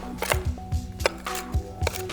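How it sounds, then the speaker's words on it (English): Knife blade roughly chopping dry-roasted cashews on a cutting board, a series of firm, irregular thuds and crunchy cracks close by, about seven quick strokes with brief pauses between them. "Just give them a big rough chop."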